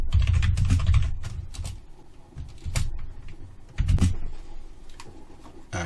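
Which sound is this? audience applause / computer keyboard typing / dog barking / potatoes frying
computer keyboard typing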